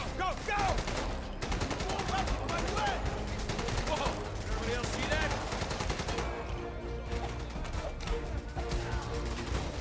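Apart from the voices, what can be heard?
heavy gunfire in Raid: World War 2 video game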